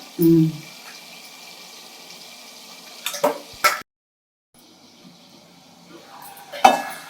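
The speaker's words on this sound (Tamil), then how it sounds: "இந்த தக்காளி வேகிறதுக்காக ஒரு 5 நிமிஷம் ஒரு மூடி வைப்போம்" A metal lid set onto a pot of cooking tomatoes for a fish curry makes a few close clanks and clinks, with a louder knock early on and more scattered metallic taps later, separated by quiet stretches.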